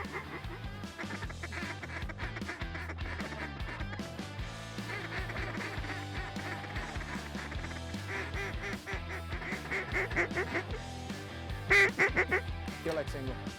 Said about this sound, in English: A lot of ducks in the air. A lot of birds around.